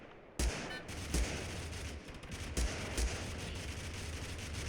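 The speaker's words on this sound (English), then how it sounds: "Somebody's got a grenade launcher over there." Explosive grenade-launcher fire in the battle-royale game Totally Accurate Battlegrounds: several heavy booms land about a second apart amid a continuous rumble of distant gunfire, loud and with no voices over them.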